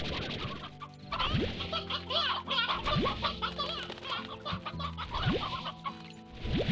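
Chickens clucking in the game Slime Rancher, with roosters among them: a busy, continuous chorus of clucks and short calls, several birds close together, steady and fairly loud with no voices.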